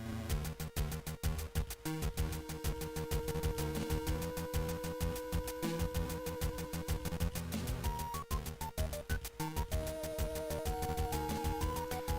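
The looping synthesized background track from the video game Sapphire, with a steady, driving beat, plays continuously and fairly loud, with no voices over it.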